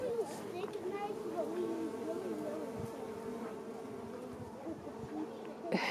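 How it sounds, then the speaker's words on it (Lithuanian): Many bees hum around the old stone blocks of a tower, a dense, steady buzz with individual insects drifting close and away, while people speak faintly in the background. "Kiek čia bičių, paklausykit."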